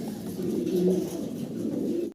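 A Danish fancy pigeon gives a low, rolling coo, one sustained throaty call lasting about two seconds, close and fairly quiet with no talk.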